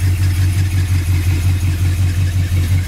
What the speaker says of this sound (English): Engine runs really nice